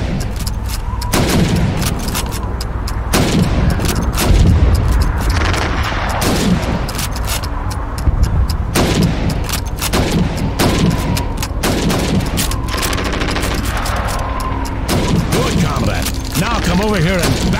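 Rifle shots at helmet targets in the Call of Duty 2 Moscow 1941 training level, a dense run of sharp gunfire cracks over continuous game noise, with a voice speaking throughout.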